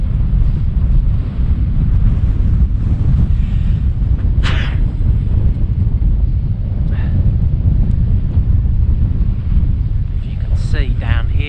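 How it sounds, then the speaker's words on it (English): Strong wind buffeting the microphone on an exposed Yorkshire hilltop behind the highest pub in the British Isles, a loud continuous low roar with gusts throughout, a few faint brief sounds on top. "Super windy."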